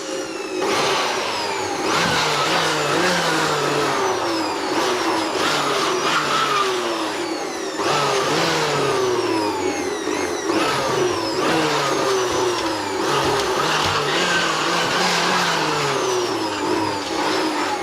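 Compressed air blower forced through a dusty desktop computer system unit during cleaning, a loud continuous rushing whine with pitch sweeps as the nozzle moves, steady throughout with brief dips.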